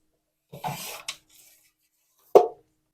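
A wooden dowel from a hardware store's lumber section is pushed into a pipe for a giant crepe paper flower, making a brief rubbing scrape and then a single sharp knock, close up with no talking.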